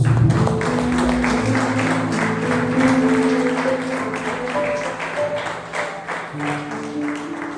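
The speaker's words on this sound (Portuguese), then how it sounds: "Aplauda o nome de Jesus" Church congregation clapping during a Portuguese-language worship service, a sustained patter of applause mixed with sung or held voices and crowd murmur, fading slightly toward the end.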